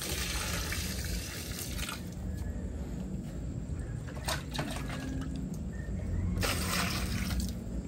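Morning watering of garden plants, a continuous close splash and trickle of water with brief louder bursts of spray, no talk.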